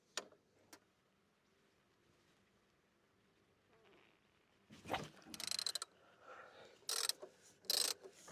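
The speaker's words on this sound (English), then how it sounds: "It's basically Allen key for a ratchet." Ratchet fitted with an Allen key bit working timing belt pulley bolts on a 40-year-old Volkswagen Golf, a few faint clicks early, then short bursts of quick ratcheting clicks up close, with no talking.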